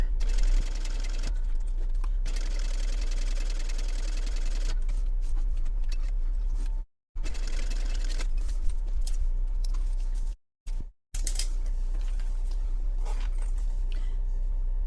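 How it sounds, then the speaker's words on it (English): A sewing machine stitches through fabric and double stick tape at a long stitch length, running in rapid mechanical bursts broken by brief pauses and a few abrupt silent gaps. "I still am stitching over my double stick tape"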